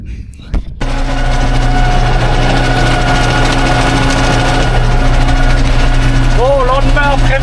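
A 6310 tractor engine runs steadily for manure spreading, a loud constant drone with a sharp knock at the start and brief squeaky tones near the end.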